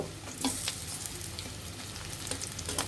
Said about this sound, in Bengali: এখন এভাবে গোল গোল করে আমরা ভেজে নিব আমরা এখন গুঁড়াটি উল্টিয়ে নিব